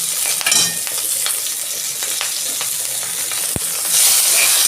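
Three green chillies crackle and sizzle in hot oil in a home kitchen while a vegetarian dal is cooked, a steady broadband frying hiss with a brief loud pop and a louder sputter near the end.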